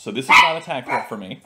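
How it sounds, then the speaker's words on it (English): A dog lets out one short, sharp bark nearby, overlapping someone speaking during a live Tak board game commentary. "That is my dog."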